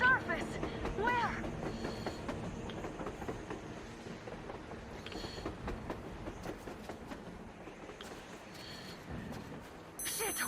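A train rolls along on the surface in the video game Metro Exodus, a steady rumbling clatter of wheels on rails with occasional high tonal accents and game character dialogue over it.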